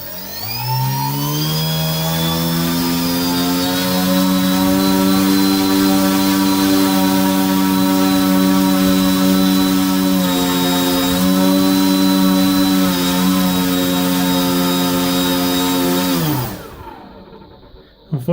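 An EMAX CF2822 KV1200 outrunner motor spins a 10-inch propeller with a loud, steady whining buzz for about sixteen seconds before it abruptly spins down and stops.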